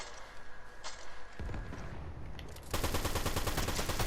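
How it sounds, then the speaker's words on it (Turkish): Gunfire in the Fortnite video game, with dense rapid bursts of shots that grow louder and more continuous toward the end, and no talk over them. "NPC de sıkıyor onu."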